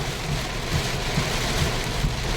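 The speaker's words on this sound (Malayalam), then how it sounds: "മഴ നല്ലോണം കൂടിട്ടോ മഴ കൂടുന്നതിനനുസരിച്ച് വെള്ളം ഇങ്ങനെ കയറുകയാണ്" Record-breaking heavy rain falls in the UAE, a dense, continuous downpour roaring steadily with faint low rumbles underneath and no voices.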